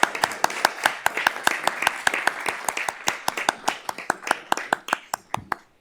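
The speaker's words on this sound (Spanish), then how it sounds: "Quiero que a todo el mundo pedirle un gran aplauso para todos los ponentes de la mesa." Applause from a seminar audience for the panelists, a small group clapping in a steady patter of distinct sharp claps that thins out and ends. No talking.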